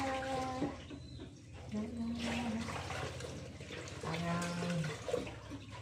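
Laundry is washed by hand in a sink, with close splashing, swishing and running water under steady talk from a woman.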